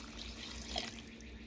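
Water is poured into a pot of mung beans on the stove, heard as a steady, moderate running-water wash with a slightly louder splash near the middle.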